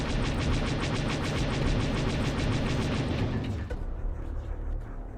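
Turrets open fire in the video game Dragon Sector: The Remake, a dense, continuous rattle of rapid gunfire and blasts that stays loud for several seconds before cutting off and fading into lower rumble.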